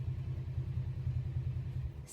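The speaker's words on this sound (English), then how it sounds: "Just heard my hubby get home on the motorbike." Low, pulsing engine rumble of a motorbike idling nearby, steady and throbbing for a couple of seconds.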